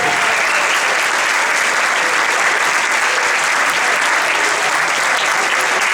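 An audience at a film presentation applauds the Valencian dubbing voice actors, a dense, loud, continuous roar of clapping hands that holds steady throughout.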